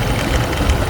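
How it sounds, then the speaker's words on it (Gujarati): A grandfather's Bajaj Discover motorcycle engine runs with a steady, close, fairly loud rumble in one brief, unbroken burst. "એ ડિસ્કવર લઈને જઈ રહ્યા છીએ દાદાની ડિસ્કવર"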